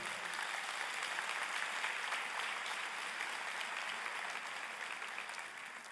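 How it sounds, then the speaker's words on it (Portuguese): Congregation in a church applauding together, a dense, steady wash of clapping held for several seconds that eases slightly toward the end. "Aplauda Ele."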